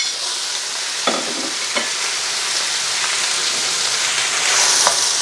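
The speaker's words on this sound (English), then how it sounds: "What I'm going to do now is add our vegetables all at the same time." Vegetables for a satay chicken stir-fry tossed into a hot oiled pan, giving a loud, steady sizzle broken by a few sharp scrapes and clinks of stirring.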